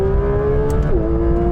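A Porsche GT4 accelerates hard in second gear from around 40, its engine note held steady and loud throughout, with a brief pitch shift near the middle as revs change, heard from inside the car.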